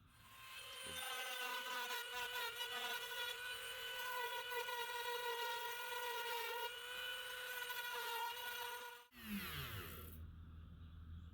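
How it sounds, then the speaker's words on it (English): A high-pitched rotary tool grinds off a pin on an Imperial pocket knife during a spring repair, a steady whining buzz that runs close and loud for about nine seconds and then stops abruptly. "So I'm gonna have to buzz this pin off here too"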